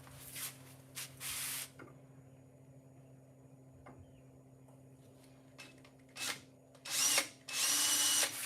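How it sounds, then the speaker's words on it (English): A cordless power drill driving spring-loaded fasteners on a cattle truck mobile bar, whirring in several short close bursts separated by pauses, the last two bursts loudest and longest, over a steady low hum. "you put the tip of the drill on it and you're ready to go"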